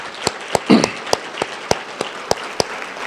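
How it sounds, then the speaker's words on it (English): Sparse, scattered claps from a small audience at a school staff recognition evening, about eight sharp separate claps spread evenly with a brief murmur near the start, rather than a full ovation. "a round of applause for putting something on like this evening"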